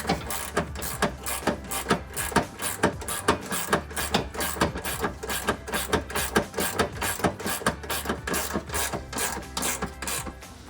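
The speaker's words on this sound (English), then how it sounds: "we're gonna go ahead and tighten this down" A socket ratchet tightening the rear lower control arm bolts on a 2005–2014 Mustang, clicking in a quick steady rhythm of repeated strokes, close and continuous.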